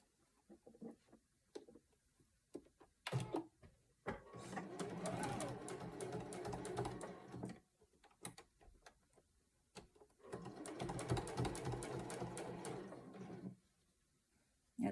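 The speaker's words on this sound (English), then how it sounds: "I'm going to start before the seam, cross over the seam," A St. Louis Star treadle-style sewing machine stitching over a thick center seam, running in two sustained rattling bursts separated by quiet pauses, close and fairly faint.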